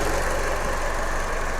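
A car engine idles steadily while the cooling fan is switched off, giving a continuous broadband hum with a faint mechanical texture, close and unchanging over a short stretch.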